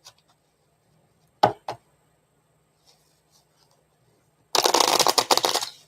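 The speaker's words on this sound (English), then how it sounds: "let me pull a couple cards" Tarot cards are shuffled close by, a dense riffling burst lasting about a second near the end. Before it come a couple of sharp taps and light handling noises against a quiet background.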